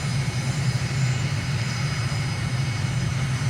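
A jet engine in Microsoft Flight Simulator, with the throttle pulled back during a steep turn over Belgrade, Serbia, gives a steady low engine roar with a high whine above it, loud and constant over the few seconds.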